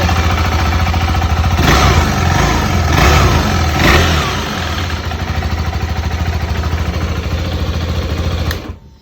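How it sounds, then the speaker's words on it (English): A 2023 KTM 390 Adventure motorcycle with its stock exhaust and resonator still fitted revs loudly up close, three sharp throttle blips rising over a steady idle before the engine cuts off. "exhaust sound."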